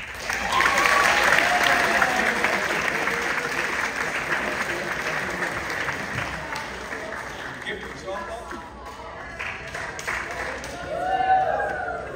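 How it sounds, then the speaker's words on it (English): An audience at a school spring sports awards ceremony applauds the Outing Club with a broad, sustained wash of clapping that stays loud and dense throughout, easing slightly midway before swelling again near the end. "So maybe just a round of applause to the Outing Club."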